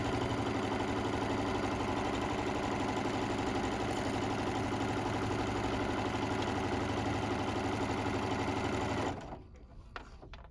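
A sewing machine stitching a tote bag runs in a steady, fast whir for about nine seconds and then stops, leaving a few faint clicks.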